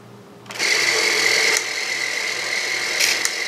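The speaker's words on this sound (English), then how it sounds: "you turn the motor back on, push it up" A Bolex film camera motor runs with a Rex-O-Fader attached, starting abruptly as a steady, close whirring hum with a faint click partway through, continuing alone without talk.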